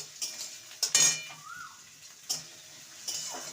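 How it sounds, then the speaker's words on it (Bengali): Grated ginger, garlic and onion stirred in a pan, a few scattered scrapes and metallic clinks of utensil against pan over a faint sizzle, quiet and close. "নেড়ে দেবো"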